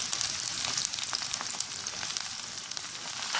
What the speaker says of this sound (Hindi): ऑनियंस को फ्राई करते हुए हम इसमें साथ साथ ग्रीन चिलीज भी ऐड कर देंगे